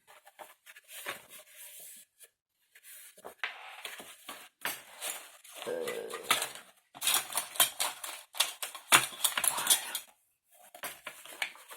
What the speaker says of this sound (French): Maintenant, je vais marquer tous ces triangles